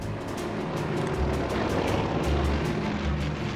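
A Pitts Special aerobatic biplane, metal-framed with wood and fabric-covered wings, flies over a racetrack, its engine giving a loud, steady propeller drone with a pulsing buzz throughout and no voices.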